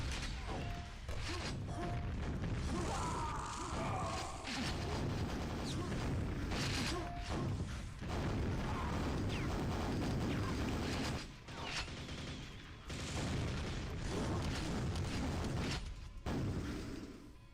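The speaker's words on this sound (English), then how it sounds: "Gotta be ready with that rocket launcher right at people's feet." Rocket launcher explosions and weapon fire in the video game Quake, with dense repeated booms, blasts and mechanical game sounds packed closely together at a constant loud level, broken by a few short pauses.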